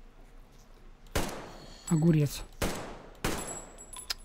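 Kalashnikov rifle fire in the shooter game Metro Exodus: three sharp, loud bursts of gunfire spaced about a second apart, with a brief spoken word between the first two shots.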